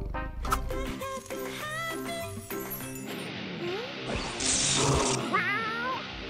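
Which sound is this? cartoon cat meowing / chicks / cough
cartoon cat meowing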